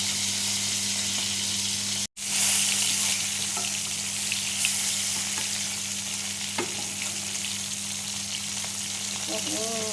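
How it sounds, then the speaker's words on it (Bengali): Tengra fish frying in hot oil with turmeric and salt, a steady dense sizzle and crackle running throughout, with a brief dropout early on and faint stirring clinks near the end. "মাছগুলো ভাজা হয়ে গেছে"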